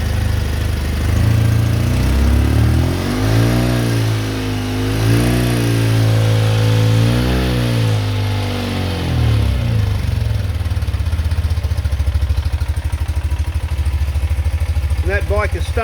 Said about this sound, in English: As you can tell from where the tacho is, it normally idles just over 1000 RPM when it's hot.